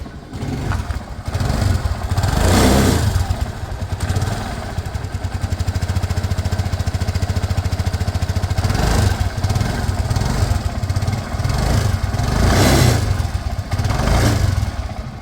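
A 2012 scooter engine starts and then runs steadily nearby, a loud buzzy idle with a few revs swelling and fading, with no talking over it.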